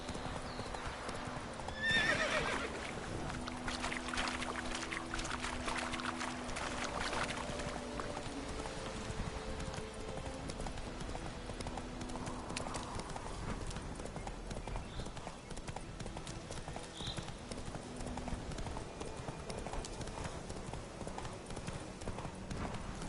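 Roach, the horse in The Witcher 3, gallops with steady, rapid clip-clopping hooves through the whole stretch, a whinny rising early on, with game music and ambience underneath.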